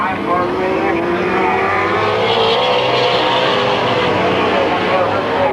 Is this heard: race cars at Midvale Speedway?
yes